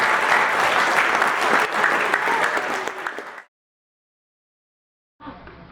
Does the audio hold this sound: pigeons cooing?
no